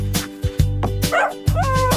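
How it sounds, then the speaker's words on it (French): A small dog gives a few soft, cheerful barks and yips in quick succession, set against a steady tonal musical backdrop in a children's nursery song. "le chien aboyait doucement et joyeusement"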